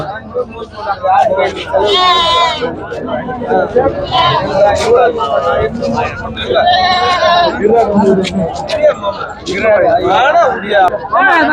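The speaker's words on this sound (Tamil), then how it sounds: "செம்மறி ஆடு சூப்பரா இருக்கு பாக்கிறதுக்கு" Sheep bleat again and again at a busy weekly livestock market in Ranipet, close and loud amid a steady hubbub of crowd chatter and people talking.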